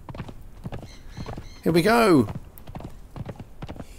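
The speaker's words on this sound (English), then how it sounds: "This horse isn't very fast at all, I have to say." Horse hooves clip-clop in the Conan Exiles video game, a steady rhythm running under continuous talk, with a loud whinny breaking in midway.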